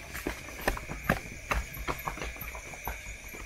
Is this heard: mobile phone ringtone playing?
no